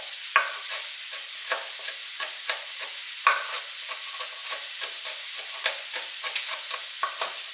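Sausage cooks in a pan for Zuppa Toscana under a soft, steady sizzle, broken by sharp clicks and scrapes from stirring at irregular intervals, with no speech.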